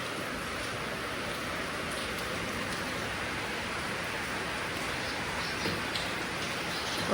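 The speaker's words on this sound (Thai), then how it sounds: "ฝนตกดิน" Steady rain pours down outdoors on a rainy July day, a continuous even hiss of drops on surfaces with no pauses and a few slightly louder spatters near the end.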